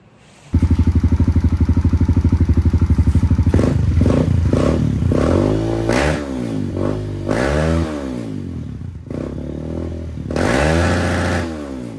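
Kawasaki KLX140 dirt bike engine fitted with a TB cam and 22mm Mikuni carburetor, starting up and idling loudly nearby, then a run of sharp throttle blips and revs rising and falling before settling back to a steady idle.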